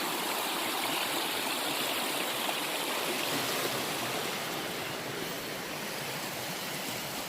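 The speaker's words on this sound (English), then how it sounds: "hear me from over the rush of the stream" A rushing stream on the Appalachian Trail roars in a dense, steady wash of water noise that fills the whole stretch, loud and close with no break or voices.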